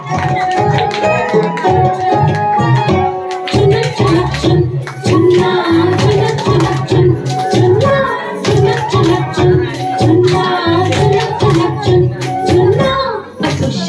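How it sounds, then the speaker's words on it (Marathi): Women clap their hands in rhythm along to a Mangalagaur song, the steady claps partly buried under loud singing. "टाळ्या टाळ्या वाजव टाळ्या जोरदार जोरदार टाळ्या"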